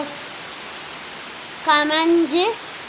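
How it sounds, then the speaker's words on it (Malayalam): Heavy rain falls in a steady, even hiss throughout, and a voice speaks briefly over it near the end. "നല്ല മഴയുണ്ട്"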